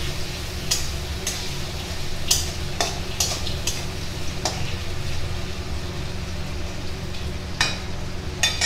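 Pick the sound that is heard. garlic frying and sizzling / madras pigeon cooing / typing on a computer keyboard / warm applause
garlic frying and sizzling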